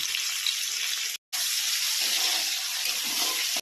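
Water pours into a pan of spices cooking for a vegetable dal, a loud steady hissing rush with a brief gap before it resumes.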